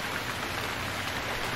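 Steady rain falls in the survival game Stranded Deep, a continuous broadband hiss of drops with no pauses, moderately loud and alone, with no voices over it.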